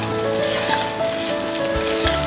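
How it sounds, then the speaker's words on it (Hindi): Spinach puree frying in a pan with softened tomatoes for palak khichdi, a steady close sizzle and hiss with light bubbling throughout, no voices. "और 2 मिनट तक हम पालक प्यूरी को भी फ्राई करेंगे।"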